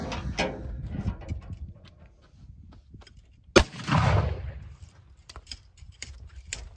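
A Colt Walker black-powder revolver fires a round ball over a 60-grain charge of 3F Swiss powder, giving one sharp, loud report with a short rumbling tail, surrounded by quieter handling clatter and background noise.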